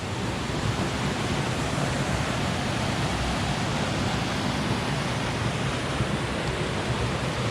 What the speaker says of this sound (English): It's actually a awesome little creek.